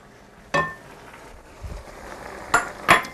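Vegetables stirred in a pan on a home kitchen stove: a few sharp scattered clinks of a utensil against the pan, with quiet scraping between them.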